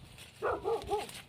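A dog gives three quick, short barks at moderate distance, fairly faint against quiet surroundings.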